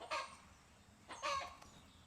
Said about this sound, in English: this chicken is so loud